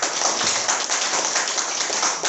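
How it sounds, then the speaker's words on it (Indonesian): Audience applause at an Indonesian seminar on choosing investment assets, a dense steady patter of many hands clapping at even loudness throughout, with no voices over it. "Tepuk tangan dulu dong"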